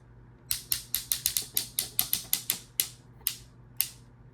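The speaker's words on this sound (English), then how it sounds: "ratchet joints for shoulders, and then, as you heard earlier, ratchet knees as well" Ratchet knee and shoulder joints on a Transformers Power of the Primes Inferno action figure clicking, a rapid series of about fifteen crisp, close plastic clicks that slow toward the end, heard alone with no talking.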